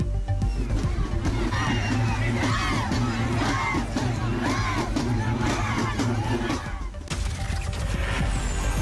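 Dense crowd of thousands at a traditional fair in Anantapur, Andhra Pradesh, a steady roar of overlapping voices and general hubbub throughout, loud and close, with a brief dip near the end.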